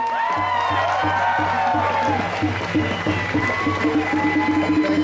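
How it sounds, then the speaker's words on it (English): A rally crowd at the March in May protest in Sydney claps and cheers for Ian Rintoul, a dense, sustained wash of applause over a droning tonal background. "Can you give a big round of applause for the tireless work of Rintoul?"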